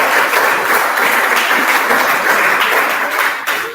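Applause from an audience at a business intelligence lecture, a steady dense wash of many hands clapping at close range with no break, tapering slightly at the end.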